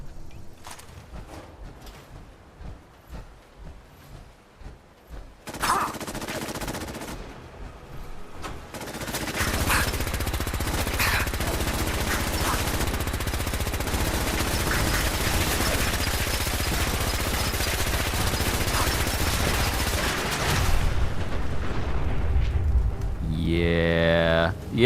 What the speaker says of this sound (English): Alright, Gatling laser.